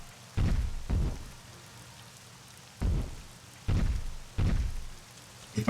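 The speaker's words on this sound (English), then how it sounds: "the moment I start selling umbrellas, it starts to rain" Rainy weather in Rollercoaster Tycoon 3 theme-park gameplay: a soft continuous patter under several loud, low booming rumbles spaced irregularly, five or so, with nobody speaking.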